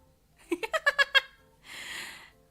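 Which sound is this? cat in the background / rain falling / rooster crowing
cat in the background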